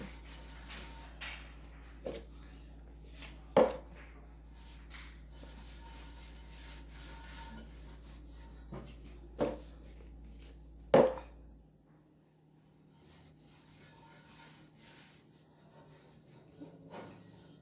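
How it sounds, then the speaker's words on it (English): Quiet rubbing of oil around a cast iron pan during seasoning, soft scraping strokes with a few sharper knocks, ending in near silence. "I'm just going to work my way around and just oil my pan"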